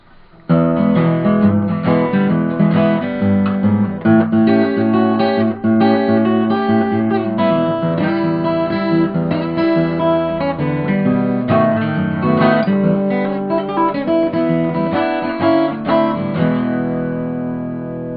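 A fingerpicked blues guitar instrumental plays steadily for the whole stretch, with a bouncing bass thumb under bright melodic notes and no voices.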